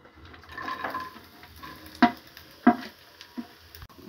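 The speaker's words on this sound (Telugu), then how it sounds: "కొబ్బరి వేయించుకోవాలి." Grated coconut frying in ghee in a pan, a soft, low sizzle beneath a few sharp clinks and scrapes of a spoon against the pan, close and quiet.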